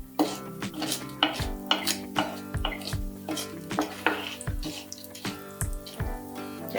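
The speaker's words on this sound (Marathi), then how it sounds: "तांबूस कलर येईपर्यंतच फ्राय करायचं आहे ते" Ground masala paste for maswadi rassa fries in a pan, with a soft sizzle beneath a string of distinct spoon taps and scrapes against the pan, spaced roughly every half second.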